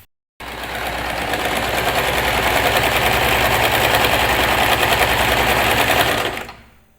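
An Usha Janome sewing machine runs steadily right after being switched on, a loud, continuous mechanical whir with rapid needle clatter lasting about six seconds before stopping.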